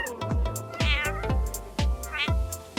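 Cartoon cat meowing and yowling in a string of loud, drawn-out cries, several rising and falling calls over thumping background music, with no talking.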